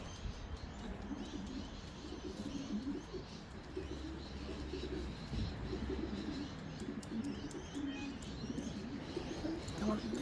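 Racing pigeons return to their home loft in Australia after a training toss, with soft cooing and calls scattered through continuous breezy outdoor noise.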